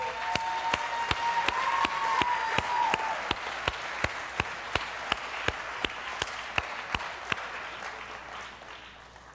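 A church congregation at an Easter Sunday baptism service cheers and applauds, with sharp rhythmic claps steady over a dense wash of crowd applause throughout.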